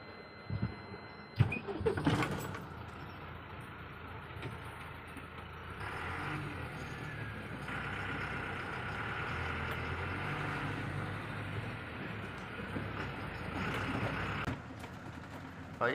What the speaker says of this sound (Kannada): ಗಾಡಿ ಸ್ಟಾರ್ಟ್ ಮಾಡ್ಕೊಂಡು ಹೊರಡ್ತಾ ಇರೋದು.